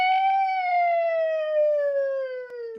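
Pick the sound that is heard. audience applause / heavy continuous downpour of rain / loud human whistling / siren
siren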